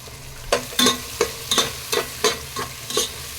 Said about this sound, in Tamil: இப்போ கொஞ்சம் புதினா ஆட் பண்ணிக்கலாங்க.